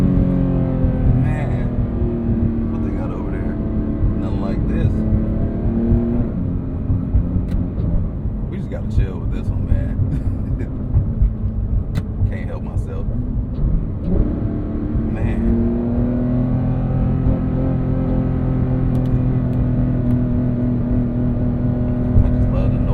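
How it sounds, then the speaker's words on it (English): A Porsche 911 GT3 engine screams under hard acceleration on the road, loud and sustained, its pitch climbing and dropping as it revs through the gears. "This car literally screams."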